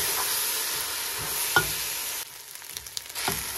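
Chopped tomatoes are stirred into a Cameroon fried rice base in a pot, a steady frying hiss that drops suddenly and then continues with light spoon scrapes and taps against the pot, no speech.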